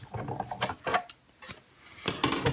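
A Big Shot die-cutting machine feeds a Thinlits butterfly die through its rollers, giving close, uneven mechanical grinding and ratcheting bursts with short pauses between.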